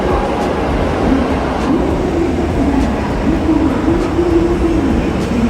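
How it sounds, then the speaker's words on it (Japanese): A Hakushin Line train pulls out of a station with a steady, loud rumble and wheel noise that builds continuously, heard up close with no one speaking. "白新線の列車が先発で出発していきました。"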